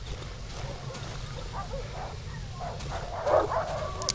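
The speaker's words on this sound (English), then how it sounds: "That's a lot of dogs." Dogs barking and yipping in the survival horror game Darkwood, several mid-distance barks scattered over a low rumbling ambience, a louder bark near the end.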